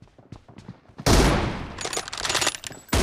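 Gunfire in the mobile battle royale game BGMI: a few faint distant shots, then a loud sustained burst of rapid automatic fire that pauses briefly and resumes, with no talking.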